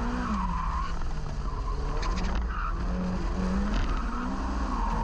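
A Ferrari F8 Tributo's tires squeal as it brakes hard for a chicane at the Thruxton circuit, a loud wavering screech over the engine note.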